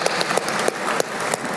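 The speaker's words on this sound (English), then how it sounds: "cheer for Homeward" An audience at a company vision and state-of-the-company event applauding and cheering, dense clapping from a crowd, loud and steady, with occasional sharper claps standing out.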